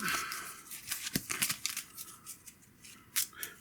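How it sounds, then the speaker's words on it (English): A deck of game cards being shuffled back together during a solo tabletop board game, giving a string of quick papery riffles and slaps close to the microphone with no talk over it. "we're out of cards, so we will shuffle these back up"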